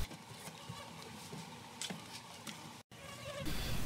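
Bees buzz around an open beehive during an inspection, a close, continuous droning hum with passing louder buzzes, followed by a brief gap and a rustling handling noise.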